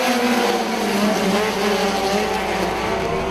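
Sport compact race cars launching at the start of a dirt-oval heat race, a loud, dense roar of several engines with tire noise, continuous and close.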